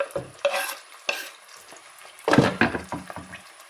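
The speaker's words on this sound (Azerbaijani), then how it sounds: "soğanı xırda-xırda doğrayıb qovrulmaqda olan ətin üzərinə əlavə edirəm" Food sizzles and is stirred in a hot pan for bulgur pilaf, with intermittent scraping and a loud burst of frying as finely chopped onion is added to the frying meat.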